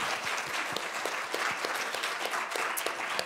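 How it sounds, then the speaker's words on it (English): Audience at a civic event in Troy applauding Mayor Ethan Baker, steady moderately distant clapping from a sizeable crowd that holds throughout. "How about a round of applause for Ethan Baker?"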